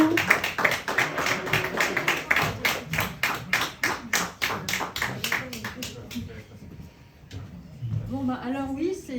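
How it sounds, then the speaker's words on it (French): Audience applause at an open-mic night in a Brest bar, a run of loud, rhythmic, fairly synchronized claps for several seconds that thin out and fade, followed by a voice speaking. "je vous demande un tonnerre d'applaudissements pour Stéphanie"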